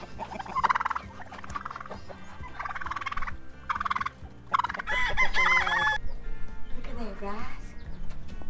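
Chickens and turkeys on a rainy farm gobble, cluck and crow in repeated bursts, loud and close, over a steady background hum.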